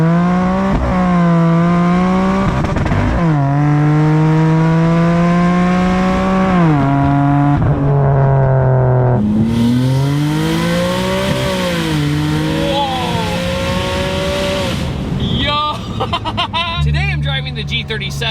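Vortex centrifugal-supercharged Infiniti G37 coupe, rear-wheel drive with automatic transmission, revving hard and loud through repeated rising pulls with pitch drops at each shift, the engine and supercharger whine dominating throughout.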